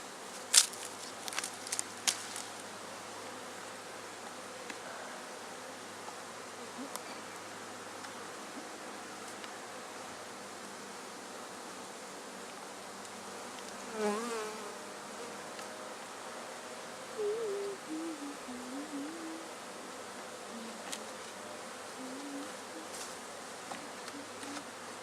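A honey bee swarm settled on the ground gives a faint, steady buzzing that continues throughout, with occasional louder passes of individual bees close by.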